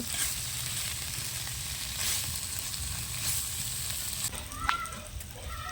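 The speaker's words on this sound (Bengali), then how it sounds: "মাংসটা আরেকটু কষানো হবে" Mutton being sautéed in a pan for a Bihari-style dish, a steady close sizzle with periodic scraping stirs and a brief metallic clink near the end.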